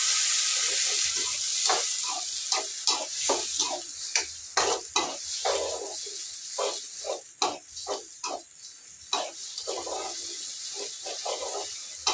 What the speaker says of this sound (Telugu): అల్లం వెల్లుల్లి పేస్ట్ వేసి ఒక రెండు నిమిషాలు కలిపేస్తా